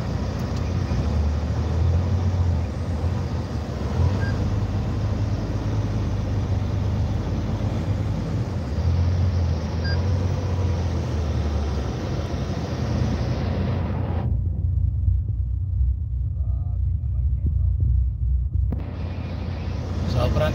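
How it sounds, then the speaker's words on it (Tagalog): Heavy congested road traffic with motorcycles on Open Canal Road, a continuous low rumble of idling and creeping engines close by, steady throughout with a brief dip in the higher hiss near the end. "Sobrang traffic guys."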